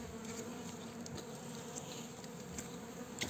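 Uruçu amarela stingless bees buzz steadily near a split hive box, a continuous close, faint insect drone with no voices.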